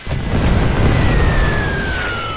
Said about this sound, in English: Oh, here comes grenades.